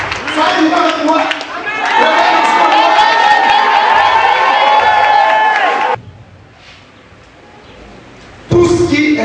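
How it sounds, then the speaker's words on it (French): An evangelical church congregation cheers and claps loudly for Jesus, with a voice shouting over the crowd. The noise cuts off abruptly to near quiet before starting again. "On acclame Jésus de Nazareth."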